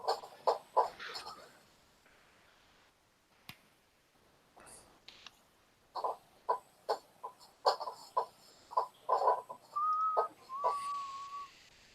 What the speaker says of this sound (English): Hey, no whistling.